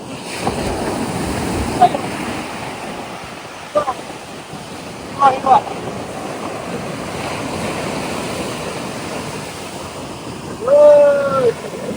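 Sea waves roll in at Marina Beach, Chennai, as a continuous rushing surf with wind buffeting the microphone, a few short knocks, and a brief tonal whistle-like sound near the end.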